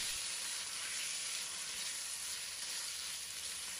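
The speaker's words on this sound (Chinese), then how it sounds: "锅中再次加入适量的食用油，油热之后，将腌制好的鸡胸肉放入锅中，翻炒至均匀，直至变色" Marinated chicken breast stir-fried in hot cooking oil in a wok, a steady loud sizzle and hiss that runs unbroken and close throughout.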